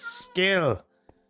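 A Minecraft cat lets out a single clear, rising-and-falling meow, close and prominent, preceded by a brief hiss of game noise.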